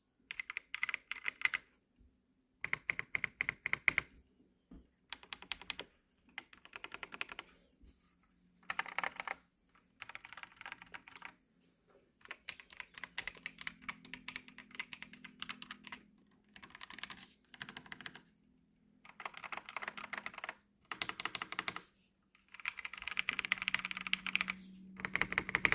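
A Womier VK66 mechanical keyboard typed on in steady bursts of crisp clicky keystrokes, close and clear with short pauses between runs, no talking.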